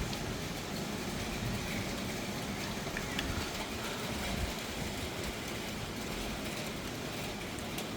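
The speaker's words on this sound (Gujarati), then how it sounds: "ફાઇનલી છાંટા પડવા મળ્યા છે ધીમે ધીમે" Faint, scattered patter of light raindrops over a soft steady outdoor hiss, quiet and distant-sounding, in Gandhinagar during summer with a cool wind.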